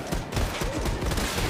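A big gun fires in the Wolfenstein II video game as a dense, continuous barrage of loud, booming shots, packed with rumbling impacts and no pauses across the short burst.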